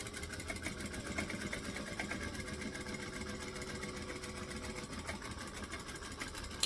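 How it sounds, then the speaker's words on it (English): A sewing machine stitches a seam on an enlarged bag in a steady, even run, with a close mechanical whir and a rapid needle rhythm throughout. "Again, you don't have to backstitch. Sometimes I do, sometimes I don't."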